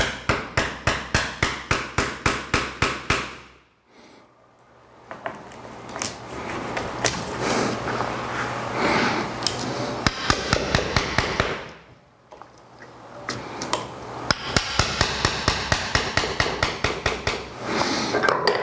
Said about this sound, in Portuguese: Vou pegar o formão, vou começar a abrir aqui.